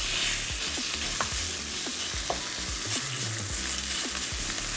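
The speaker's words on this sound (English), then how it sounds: "So I'm going to put the chicken in the frying pan, try and to cook it and lock the flavors in." Chicken pieces sizzle loudly in a very hot frying pan for a homemade stir fry, a constant hiss broken by pops and scraping stirs.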